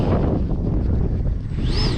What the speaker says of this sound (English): It's just this wind is so bad right now